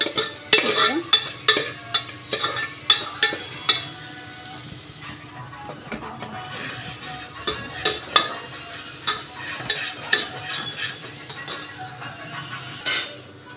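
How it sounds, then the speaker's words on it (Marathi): Onion frying with green chilli in a pan for daliya khichdi, a continuous sizzle under repeated clinking scrapes of a spoon stirring against the metal pan, steady and close. "थोडा कांदा टाकते, थोडासा कांदा ब्राऊन होऊ द्यायचा आपल्याला।"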